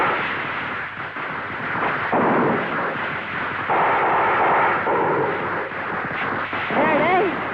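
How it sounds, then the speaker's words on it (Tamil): Firecrackers burst on a rooftop late at night, a loud, dense, continuous crackle and boom that fills the whole stretch, while voices are heard over it. "வெடிக்கலடா, வெடி சத்தம்."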